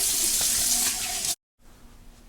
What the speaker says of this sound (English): But I'll perform a quick rinse now.